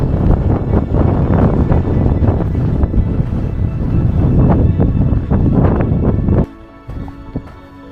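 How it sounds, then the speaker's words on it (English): Steady gusty wind buffets the microphone with broad rumbling noise, then drops abruptly near the end, leaving quieter rustling. "Windy."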